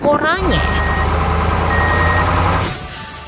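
An orange truck idles loudly nearby as it is loaded, with a steady engine rumble, a hiss of air brakes and repeated reversing beeps running through the clip.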